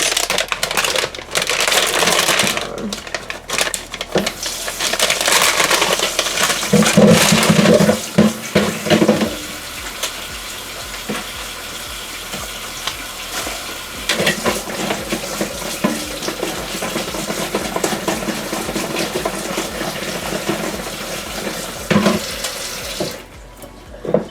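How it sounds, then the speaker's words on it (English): Potatoes are washed under a running kitchen tap, the water gushing steadily and loud for most of the stretch with scrubbing and splashing variations, then cutting off near the end. "We're gonna wash the potatoes."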